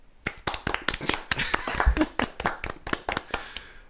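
Many hands clap irregularly at close range, a scattered patter of sharp claps swelling briefly in the middle.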